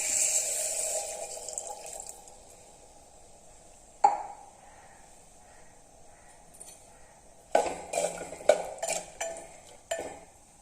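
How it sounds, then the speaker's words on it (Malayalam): Water poured into a clay pot of sautéed plantain for kalan, a soft hiss early on, then a sharp clink and later a burst of splashing and clattering against the pot. "അല്പം വെള്ളം ഒഴിച്ചൊന്ന് വേവിച്ചെടുക്കാം"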